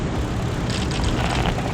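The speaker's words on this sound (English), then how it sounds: "There's another wave of suicide planes coming in from the southwest." Kamikaze planes attacking in the video game Heroes of the Pacific: a loud, steady roar of aircraft engines with a dense rushing texture that thickens midway, close and continuous.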